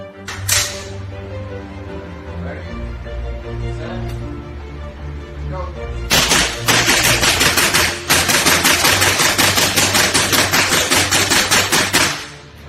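A rifle fitted with a bump stock and a 30-round magazine fires, first a few separate loud cracks and then a rapid, evenly paced burst lasting about six seconds, close and very loud over a steady background hum.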